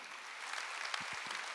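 A church congregation claps during a Wednesday worship service, a steady wash of applause filling the room evenly from start to finish with a few low thumps near the end.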